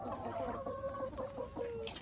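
Rhode Island Red and Malay chickens cluck in a crowded coop of about seventy birds, a dense overlapping chorus of nasal clucks and short calls close by, with no talking.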